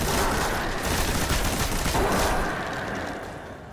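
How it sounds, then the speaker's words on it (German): Gunfire rattles through a firefight in the sci-fi shooter Destiny: a dense, continuous burst of rapid shots, loud and near, that fades slightly toward the end with no voices over it. "Ich glaube, ich schieße mich jetzt einfach mit Fratzengeballer durch."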